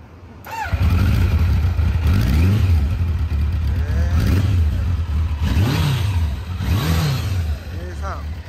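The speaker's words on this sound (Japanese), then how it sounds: "エンジン音聞かせてください。" A Kawasaki GPZ900R Ninja A3 motorcycle, fully overhauled a few years earlier, idles after starting and is revved several times in sharp, rising and falling blips close by, with people talking near it.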